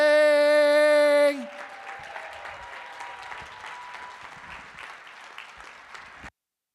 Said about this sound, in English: Please, on your feet for a loud round of applause for my friend Alie Murphy!